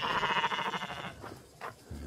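Farm sheep being fed bleat loudly and close at hand, a sustained wavering call that fades into rustling and shuffling, ending with a low rumble.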